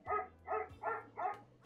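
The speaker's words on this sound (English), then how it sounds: "Here's what a dog sounds like." A dog barks four times in an even rhythm with a fifth bark starting at the end, each bark loud and close, played back through a Google Assistant smart speaker with a low steady hum underneath.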